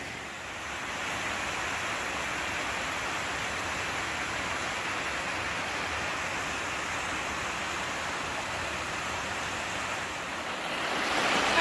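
Continuous rushing of a brook pouring over trail cascades near St. John's Ledges, Connecticut, a steady broadband water roar heard close and loud, swelling slightly at the end, with no voices.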